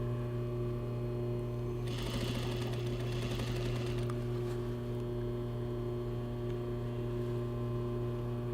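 Sewing machine running steadily as it sews the lining of a bustier, a constant close motor hum with rapid needle clatter that briefly grows louder and brighter in the middle.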